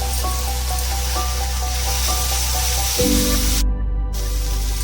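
Grated potato with salt and turmeric sizzles in a pan, a steady loud frying hiss with a low hum beneath and a brief shift partway through as the cooking continues.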